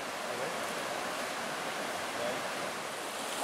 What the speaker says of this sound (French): Au bord du ruisseau, c'est incroyable